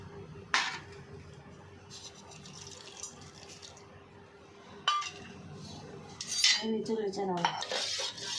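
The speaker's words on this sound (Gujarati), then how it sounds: "વાટેલા સિંગદાણા, તપકીર, ખાંડ બધું જ એકસાથે મિક્સ કરી દઈશું" Crushed peanuts, tapioca starch and sugar stirred together in a steel pot for tapioca kheer, with a spoon clinking and scraping against the metal in scattered bursts, a few sharper knocks, close and moderately loud.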